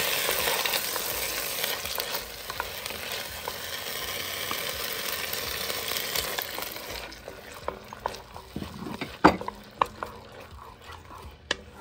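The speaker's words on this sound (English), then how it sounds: "I added my black beans to the pot with the epis and the garlic and the grapeseed oil" Black beans sizzle and are stirred in a pot with epis, garlic and grapeseed oil. A dense, close frying hiss fills the first half, then fades into sparser crackles and sharp scraping knocks of a spoon against the pot.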